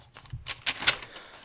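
A sheet of paper rustles close up in a few quick, crisp crinkling bursts, with no talking.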